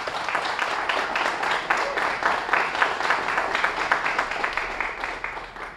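An audience at the opening ceremony of a 2019 event applauds the women present, a steady burst of many hands clapping, moderately loud and sustained for several seconds.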